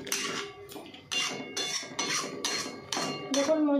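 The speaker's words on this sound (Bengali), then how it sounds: "আগে মশলাটা ভালো করে কষিয়ে নিই।" A spatula scrapes and tosses spices around a pan over a medium flame for a Bengali bata fish tel jhal, making about seven close, rhythmic metallic strokes in steady succession.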